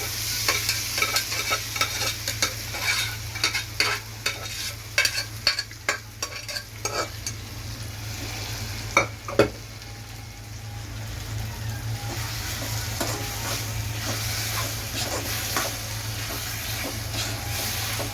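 Spoon stirring eggplant, tomato and garlic mash in a little oil, steady frying sizzle under a low hum, with irregular scraping and tapping strokes that fade toward a constant hiss.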